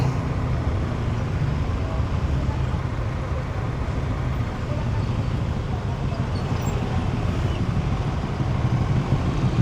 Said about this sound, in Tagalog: So ayun na nga, na traffic tayo.